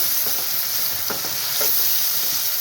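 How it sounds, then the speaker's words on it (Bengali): Onions sizzling in a pan of oil left over from frying chicken, with bay leaves added, while being stirred; a short, close, even hiss broken by a few scraping strokes of the spoon. "পেঁয়াজটাকে একটু নাড়াচাড়া করে হালকা করে ভাজা ভাজা করে নেব"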